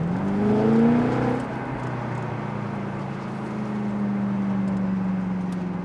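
A BMW M6 engine, 560 horsepower, hums and rises in pitch briefly in comfort mode, then settles into a steady, moderately loud drone as it keeps running.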